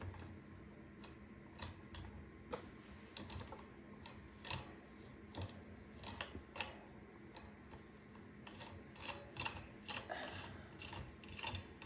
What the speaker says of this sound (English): then we take this retainer, the retainer nut, and then we go this way to tighten it.